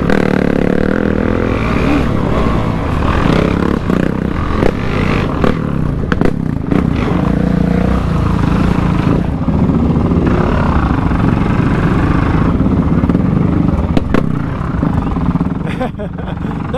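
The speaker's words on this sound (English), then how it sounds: "I will say one benefit to the stock exhaust is I can hear the machine in front of me really good." An ATV with a stock exhaust rides a muddy trail, a loud continuous engine drone with rattles and clatter from the machine and rough ground throughout, with a rider speaking over it.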